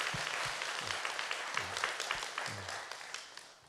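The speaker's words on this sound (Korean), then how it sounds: "우리 감사의 박수 한번 하면 좋겠습니다." Church congregation clapping in thanks after a weekday worship service, a fairly faint, steady patter of many hands with a few louder claps and low murmurs underneath.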